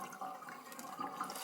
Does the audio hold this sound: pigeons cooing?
no